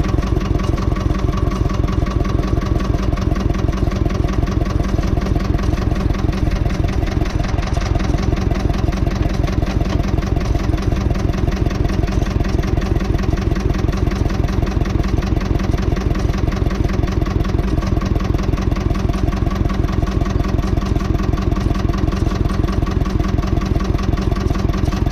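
Ursus C330M farm tractor engine running steadily at lowered revs, a loud, close, continuous diesel chug with even pulsing throughout and no talk.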